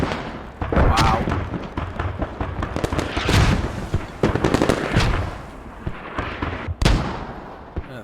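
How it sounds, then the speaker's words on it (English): Rapid bursts of 30 mm cannon fire in the military shooter game Squad, sharp repeated reports mixed with other gunfire and blasts over several seconds, with a commentator talking throughout. "30 mil shooting."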